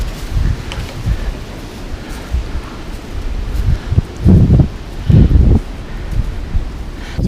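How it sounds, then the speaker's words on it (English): Gusty wind blows through trees in the woods, with a continuous rustling roar and stronger buffeting gusts hitting the microphone, loudest around the middle of the clip. "Look at the wind."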